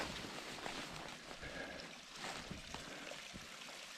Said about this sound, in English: Oh, nice little creek.